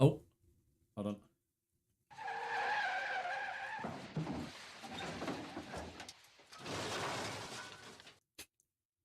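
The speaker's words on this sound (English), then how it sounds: "That's the sound of a car crash." Car crash sound effect heard during a Five Nights at Freddy's 2 live stream: tire skidding and screeching followed by crunching, shattering impact noise in bursts, with a person talking briefly.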